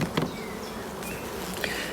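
Many honey bees buzz steadily up close at a hive, a dense continuous hum with passing individual insects flying near.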